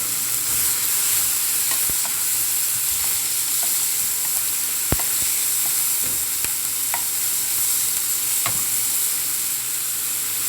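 Vegetables including eggplant, tomato, pickled papaya and broccoli stir-frying in a pan give a steady, loud sizzle, with scattered sharp clinks of a utensil against the pan and no talking.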